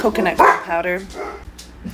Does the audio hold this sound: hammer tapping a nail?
no